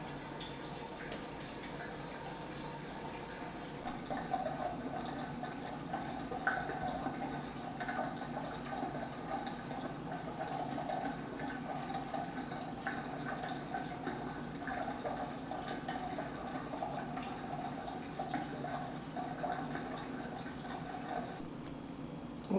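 Home-brewed Oktoberfest wort pours steadily into a fermenter with aeration, a continuous splashing, gurgling liquid rush at moderate level with no pauses.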